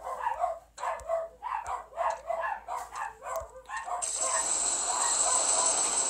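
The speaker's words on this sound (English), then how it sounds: "my dogs are going nuts." Dogs in a home bark in a rapid string of about eight sharp, close barks over four seconds. A steady hiss follows once the barking stops.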